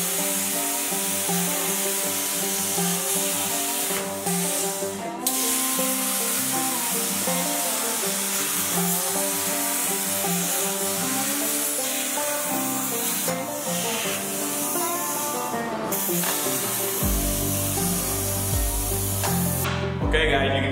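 A CNC plasma table cutting quarter inch steel plate, giving a steady, loud, continuous hiss and hum with a shifting buzzy tone that runs unbroken for the whole stretch, with a deeper rumble near the end.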